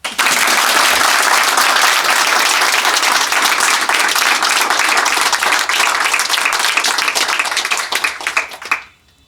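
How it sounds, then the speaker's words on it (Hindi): A large audience claps loudly and continuously at a spiritual gathering in India, dense applause for about eight seconds before it fades out quickly. "ताली लगाओ इसके लिए।"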